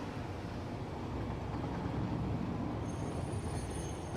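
A train in the factory-building game Satisfactory, played in VR, rumbles past with a steady, loud rolling roar and faint wheel squeal throughout.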